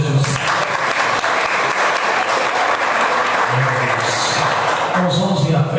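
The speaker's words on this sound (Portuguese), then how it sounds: "a igreja aplaude o nome de Jesus." Loud, sustained applause from a church congregation honoring the name of Jesus fills the room, dense clapping that stays strong throughout with faint voices mixed in.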